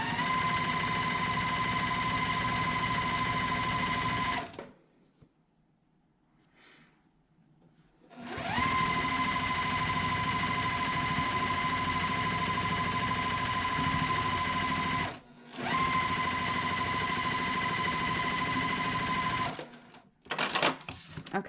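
A sewing machine runs in long steady bursts while stitching a smaller border piece onto a quilt top, pausing briefly between runs with a short quiet stretch and a quick restart near the end.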